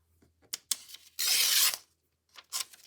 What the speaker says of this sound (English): So let's tear the excess off.